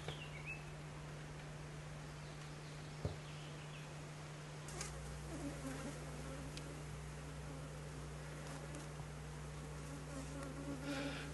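Honey bees hum steadily around a hive set out on open land in Minnesota, a close, continuous drone with individual insects passing nearby, with no voices.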